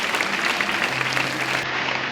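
An audience at a women's padel tournament in La Rochelle claps after the match ends, a dense, even burst of applause throughout, heard close and fairly loud.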